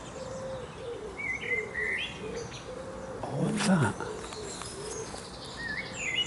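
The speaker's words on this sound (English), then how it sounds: "the birds are all around me, and they know me" Birds call in a small garden, with repeated chirps, tweets and soft dove-like coos spread across the scene, and a voice briefly speaks in the middle.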